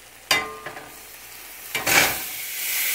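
Sausages drop into a hot frying pan, each landing with a sharp hiss and a burst of sizzling, two distinct splashes followed by steady close frying.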